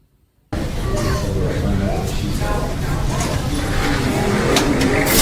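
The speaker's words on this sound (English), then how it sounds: "because the car is going very fast" A car races at speed, its engine roaring loudly and continuously from close by with some tire noise, following a brief silent start. Speech runs over the engine.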